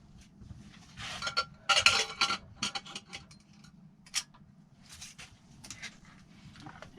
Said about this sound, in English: Okay, put the lid back on.